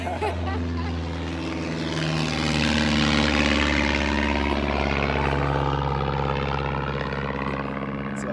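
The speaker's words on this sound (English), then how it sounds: "Got an airplane interference." A propeller airplane passes overhead on a fine day, its droning engine swelling to a loud peak midway and holding steady for several seconds with no voices over it.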